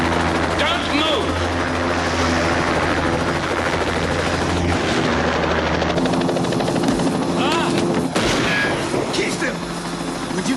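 A helicopter drones steadily overhead throughout, a loud low rotor hum with chopping texture, while sharp bursts of gunfire and shouting voices cut in over it.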